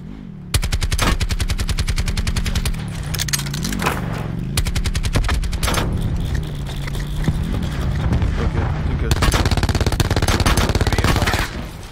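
Rapid automatic gunfire in Call of Duty Blackout battle royale, long sustained bursts of loud close shots with brief pauses, a few heavier bangs mixed in, continuing steadily throughout.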